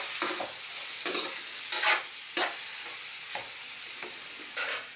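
Spoon stirring callos, a Filipino tripe stew, in a pot with whole peppercorns, in a series of separate scraping strokes against a sizzling background with no talk.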